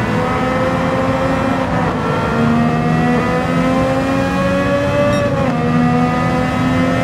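A race car in Gran Turismo 7 accelerates out of a corner, its engine note climbing steadily in pitch with a brief dip at a gear change, loud and close with no talking.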